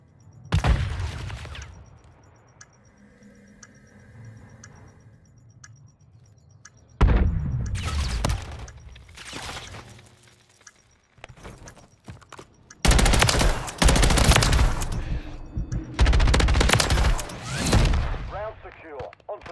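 Video game gunfire from an F2000 rifle, with loud bursts of rapid shots in several clusters separated by quieter gaps, mixed with game noise and voices.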